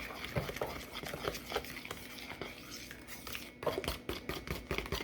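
Lemon buttermilk chess pie filling is stirred in a bowl, a spoon scraping and tapping against the sides in quick irregular strokes, close and fairly faint.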